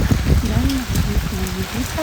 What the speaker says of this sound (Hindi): ये देखो कितनी सारी बारिश हो रही है